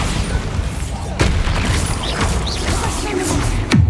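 Bombarda spell blasts in the video game Hogwarts Legacy: sharp explosive impacts near 1.2 and 3.7 seconds punch through a dense rumbling battle soundscape with crunching debris and whooshing magic effects.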